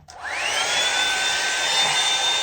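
A Hot Tools professional blow dry brush runs continuously close by, a steady whirring motor with a strong airy hiss and a high whine that holds level for the whole stretch, with no talking.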